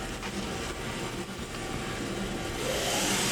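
A Kia SKT-15LMS CNC turning center's main spindle runs steadily at speed, a continuous mid-pitched machine whir with broadband hiss that swells slightly louder toward the end, no voices over it.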